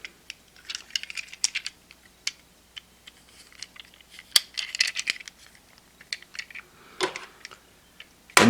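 Small plastic clicks and taps as the legs of a Shinkalion 500 Kodama transforming toy are handled and plugged into its body: close, scattered snaps and rattles in quick bursts, with a louder click at the very end and no talking.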